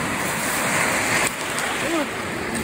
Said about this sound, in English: Ooh, there's a lot of waves.